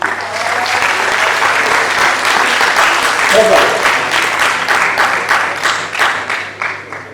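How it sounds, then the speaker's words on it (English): A large audience at a university foundation course session in Vadodara gives a round of applause, loud and sustained clapping from many hands that tapers off into separate fading claps at the end. "So big round of applause for this."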